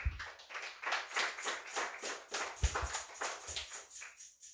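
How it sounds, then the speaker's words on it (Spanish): A church congregation claps for the Lord in rhythmic, evenly spaced beats, about a dozen distinct claps in quick succession, fairly faint and without talk. "Dele fuerte aplauso al Señor, hermano."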